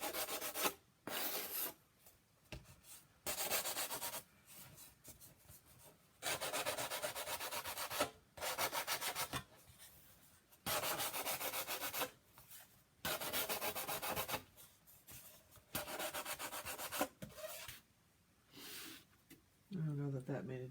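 Steady back-and-forth rasping strokes of hand sanding around a wood edge repeat in bursts with short pauses, close and fairly loud.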